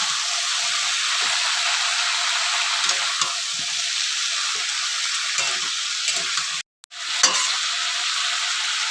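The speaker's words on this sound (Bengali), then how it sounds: "এই সবজিগুলো ভাজা হয়ে গেছে" Mixed vegetables, seventeen kinds, frying in hot oil in a wok while being stirred: a steady close sizzle with repeated scraping stir strokes and one brief break near the end, with no voices.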